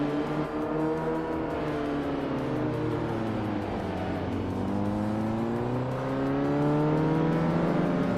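Race cars, among them a Volkswagen Golf GTI, roar through a video game race at Riccardo Paletti, with layered engine tones rising and falling as cars accelerate and pass, loud and continuous, without voices.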